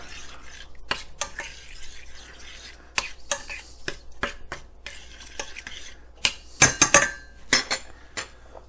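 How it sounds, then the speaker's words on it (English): A spoon scrapes and knocks around a pot of diced tomatoes, a series of irregular clinks and stirring scrapes that grow busier and louder toward the end, with no talking. "Give that a stir."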